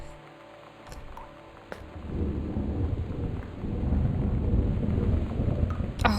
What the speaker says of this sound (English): Oh, it's thunder